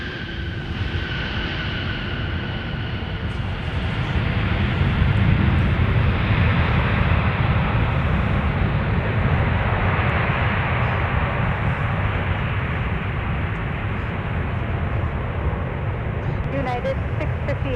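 Airliner touching down at Minneapolis–Saint Paul airport after a long flight, a broad steady roar of engine and rolling noise heard from a distance, swelling and easing over the clip with no clear voices.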